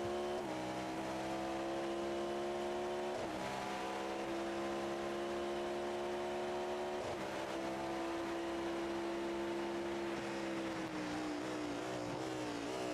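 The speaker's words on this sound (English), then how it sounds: "Quad cam V8. I think it's 5 litres, naturally aspirated. Listen to it down the casino straight here, folks." A naturally aspirated 5-litre quad cam V8 race car in a racing game screams down a straight, its steady high-pitched engine note dipping briefly at gear changes before climbing again, loud and continuous with no talk.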